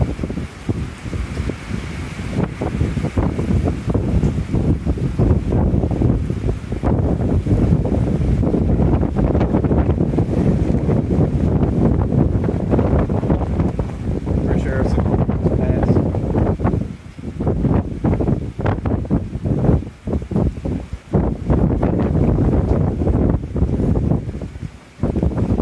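Strong storm winds buffet and roar across the microphone in a long, loud, continuous rush with gusty surges and brief lulls, amid heavy rain and lots of standing water outdoors.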